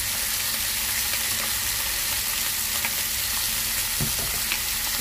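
Red fish frying in oil for a Hong Kong style fish soup, a steady close sizzle and crackle with occasional light stirring clicks.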